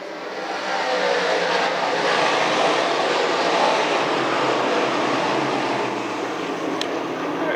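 Modified race cars roar around the Can-Am Speedway oval during a 358 Modified feature, a steady dense wash of engine noise from the pack with no break and no voices.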